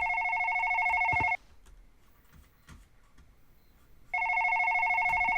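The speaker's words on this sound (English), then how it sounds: "Is the phone in here?" An electronic telephone rings in a room of a house along a dark road, two clear warbling bursts of ringing separated by a pause with faint background noise.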